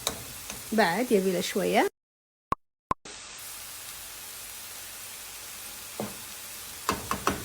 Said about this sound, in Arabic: وهني البطاط يتقلى